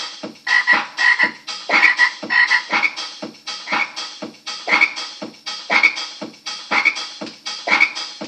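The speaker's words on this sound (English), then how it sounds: "Frogs are hollering." Frogs croaking outdoors on a cold, icy night during a storm, a loud, regular pulsing chorus of repeated calls at roughly even intervals, with no voices.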